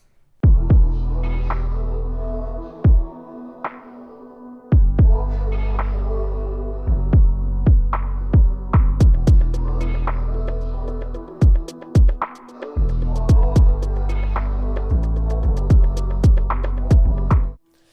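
A looping instrumental hip-hop beat with heavy throbbing bass and sharp snapping percussion hits, steady and loud throughout without any voices.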